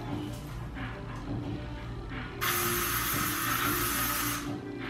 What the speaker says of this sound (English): You probably have to spray that much